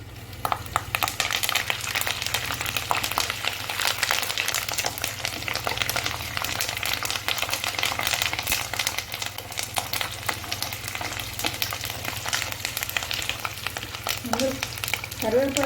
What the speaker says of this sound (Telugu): ఇదిగోండి ఇలా దినుసులు వేగాలి